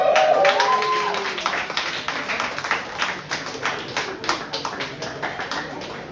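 Sparse, scattered clapping from a comedy show crowd forms a thin, uneven patter of claps. A brief tonal vocal sound is heard at the start.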